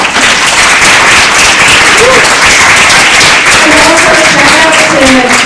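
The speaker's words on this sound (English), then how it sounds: "Let's give one more round of applause." An audience claps in sustained, dense applause at the close of a poetry reading, loud and close, with faint voices mixed in.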